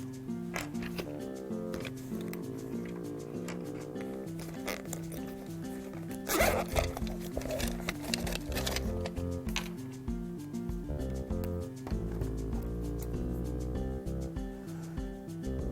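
Scissors cut through double-sided tape, making a run of raspy, zipper-like snips in the middle, partly buried under steady background music.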